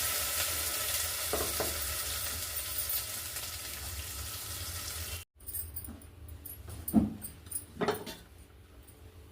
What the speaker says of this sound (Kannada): ಮತ್ತು ಮಸಾಲೆ ರುಬ್ಕೊಂಡಿರೋ ಮಸಾಲೆ ಹಾಕ್ತಾಯಿದ್ದೀನಿ